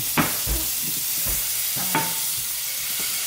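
Butter sizzles steadily in a frying pan while French toast cooks at home, a continuous close hiss broken by a few soft clicks and scrapes of utensils against the pan.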